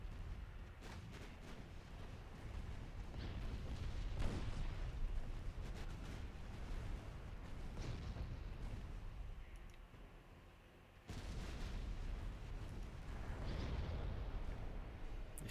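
Naval gunfire in the Ultimate Admiral Dreadnoughts warship game, a continuous rumbling barrage of booms and bursts that dips briefly before resuming, with no voices.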